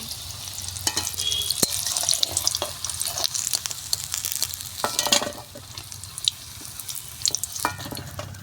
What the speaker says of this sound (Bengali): তো এবার আমার লাল লাল করে ভাজা হয়ে যাচ্ছে।